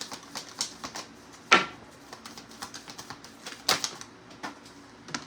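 Tarot cards being shuffled in quick, light riffling taps and flicks, with two sharper snaps partway through, close and fairly quiet.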